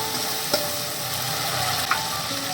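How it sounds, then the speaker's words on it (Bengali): Steady sizzling and stirring of fish curry spice paste in a frying pan as water goes in, with a couple of sharp clinks, close and continuous with no talk. "এবার আমি এর মধ্যে জল দিয়ে দেবো"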